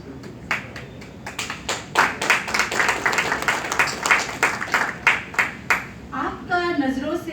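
An audience at a Hindi comic poetry recital claps in a steady burst of applause that swells and then fades, while a performer's voice comes in near the end.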